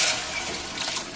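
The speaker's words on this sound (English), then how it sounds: "pour those beans right on top and let the mushrooms soak up that nice, tasty bean water" Canned green beans and their liquid are poured into a pot over dehydrated mushrooms, a brief, continuous splashing pour up close with no speech.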